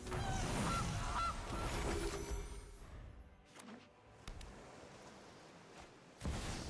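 A goose honk sound effect plays as the Gilded Goose card hits the table in the Magic: The Gathering video game: a loud, brassy honk up front, followed by fainter clicks and soft digital game sounds.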